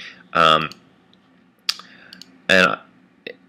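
A computer mouse is shift-clicked to select regions in image-editing software, giving a few sharp, isolated clicks separated by pauses, close and fairly clear, alongside brief voiced vocal sounds.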